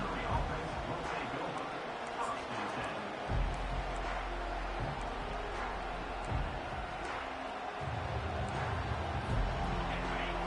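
Steady roar of a large stadium crowd at a football game, broadband and continuous with occasional swells, running under a commentator's voice throughout.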